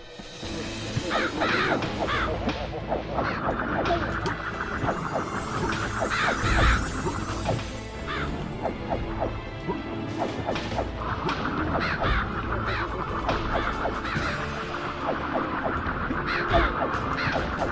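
Crows cawing in the PS1 game MediEvil, repeated harsh calls scattered through a dense, continuous game soundtrack with thuds and swishes of combat, fairly loud throughout.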